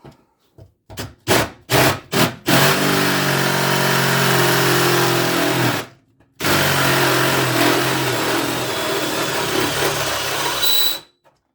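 A power drill enlarges a hole in a 2017 Subaru Crosstrek during a hitch install, with a few short trigger bursts followed by long loud grinding runs, one brief pause between them.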